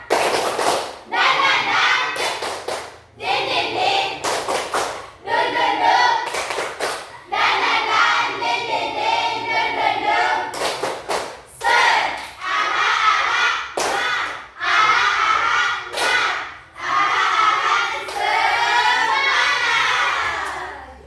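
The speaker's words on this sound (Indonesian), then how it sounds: "Tepuk semangat." A school class claps a rhythmic spirit cheer at the end of a lesson, loud repeated bursts of clapping in patterned groups, with children's voices shouting along over roughly twenty seconds.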